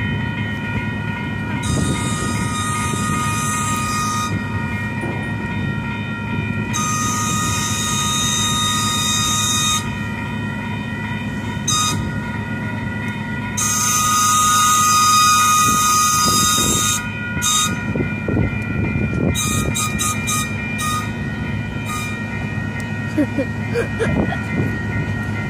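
An Amtrak train backing up at a busy Chicago rail junction, a steady loud rumble of rolling cars with high tonal bell-like or buzzer tones sounding in bursts, and voices talking in between.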